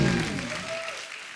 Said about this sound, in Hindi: एक बार जोरदार तालियां अमित जी के लिए